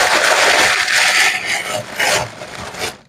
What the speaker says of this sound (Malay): Letak air batu.